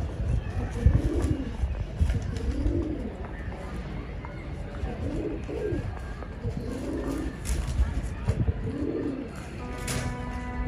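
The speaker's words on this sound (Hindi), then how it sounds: "कबूतरों को दाना पानी रख दिया है" Sialkoti cross pigeons coo in a close, steady series of repeated throaty calls, roughly one every two seconds, with faint background chatter and occasional chirps.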